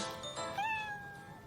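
A house cat's meow from an online sound-matching listening game: one drawn-out, rising-then-falling meow, close and clear with nothing else around it.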